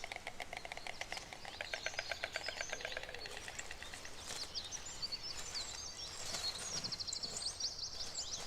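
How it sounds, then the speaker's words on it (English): A white stork clatters its bill near farmhouses in Poland, producing a rapid, dry wooden rattle in a close burst of a few seconds, followed by softer bird calls. "The bird's distinctive clattering is both a greeting and serves to strengthen the bond between partners."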